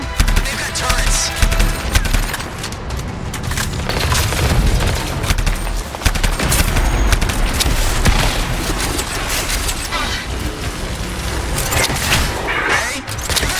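Turret gunfire in the Anthem video game rattles in dense, sustained bursts, loud and close, with a voice speaking briefly under the barrage.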